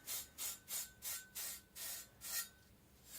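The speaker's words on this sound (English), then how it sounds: "Trying to strop away the burr." A Chinese cleaver blade being stropped to remove the burr, seven soft, even rasping strokes in a steady back-and-forth rhythm, quiet and close.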